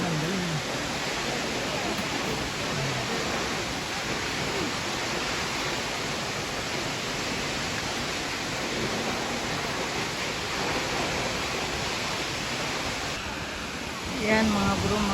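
Aw-Asin waterfall in Sigay, Ilocos Sur, roars as a dense, continuous rush of falling water close by. It is broadband and steady throughout, with brief faint voices near the end.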